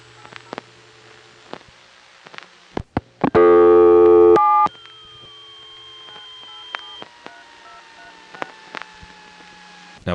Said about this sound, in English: The touch tones you heard in the background were other customers.